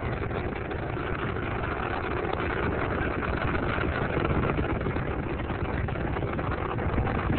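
Space Shuttle Columbia's engines during the STS-40 launch, heard as a steady, dense roar with a broad band-limited rumble, constant and unbroken throughout with no voices.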